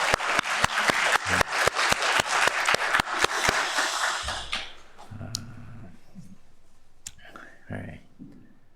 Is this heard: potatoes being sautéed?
no